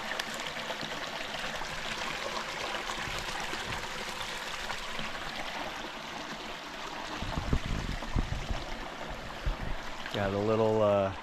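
A creek flows gently in a wooded mountain setting near a lake, a soft steady trickle in the background, with some rustling and a brief louder disturbance near the end.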